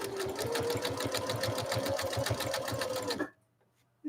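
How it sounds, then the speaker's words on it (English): A Husqvarna Viking sewing machine runs a zigzag stitch with a rapid, steady mechanical chatter for about three seconds, then stops abruptly into near silence. "So now we'll try to lay down that zigzag next to this one."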